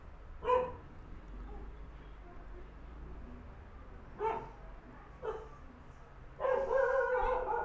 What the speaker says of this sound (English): Dogs outside.